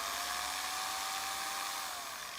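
A high, steady whine of an angle grinder fitted with a drill chuck attachment, running continuously at speed, fairly quiet and even throughout.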